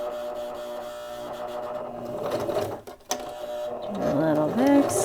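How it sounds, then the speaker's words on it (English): Sewing machine back stitching fabric for a Kindle sleeve, its motor whirring in short runs with a mechanical chatter and a brief pause midway, while a person talks softly over it. "Do a little back stitching."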